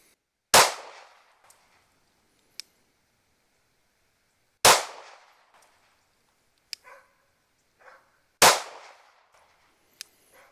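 Three pistol gunshots fired while zeroing a red dot sight, each a loud sharp crack with a short decaying tail, spaced about four seconds apart, with faint clinks between shots.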